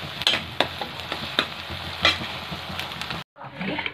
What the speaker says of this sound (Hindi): यहाँ दोस्तों प्याज हो रहे हैं फ्राई